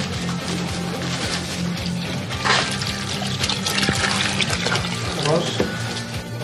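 Water pours and trickles into a bucket of tile adhesive for mixing, a continuous splashing close by with background voices and some clatter underneath.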